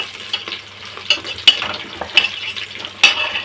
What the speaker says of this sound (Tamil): அதுக்கப்புறம் தக்காளியை நல்லா வதக்கணும்.